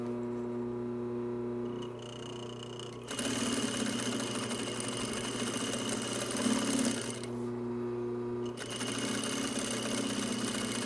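A sewing machine topstitches a cargo pocket on a shoulder bag in a continuous close-up run of stitching over a steady motor hum, with brief slowdowns and pauses between bursts.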